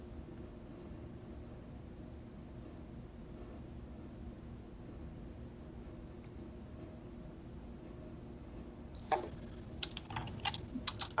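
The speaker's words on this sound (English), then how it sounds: "I hear her typing now." Typing on a computer keyboard, a quick irregular burst of faint clacks arriving near the end over a steady background hum.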